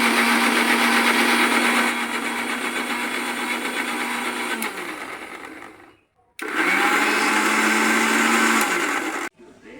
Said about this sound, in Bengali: আমটাকে মিক্সিতে ভালো করে একটু ব্লেন্ড করে নেবো।